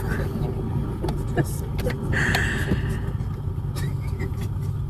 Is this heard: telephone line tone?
no